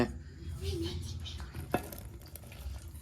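Onion, tomato and raw corn gravy being mixed in a pan, a steady scraping stir with soft sizzling and a sharp clank of utensil on metal partway through.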